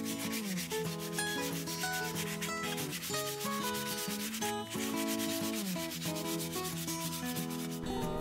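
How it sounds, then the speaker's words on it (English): Hand sanding of a wooden axe handle, a steady rasping rub, mostly buried under loud continuous instrumental music throughout. "more sanding is need to be done"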